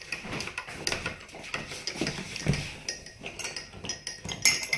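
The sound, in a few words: spoon stirring sugar in a cup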